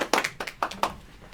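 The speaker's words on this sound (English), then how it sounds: "Big applause." A brief patter of hand claps at a live stream, a handful of sharp claps from one or two people, quiet and close, fading out within about a second.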